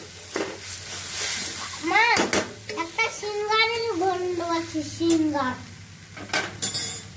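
Grated carrot for halwa frying in ghee and stirred in a pan, a soft sizzle and scraping utensil sounds running beneath someone talking through most of the clip.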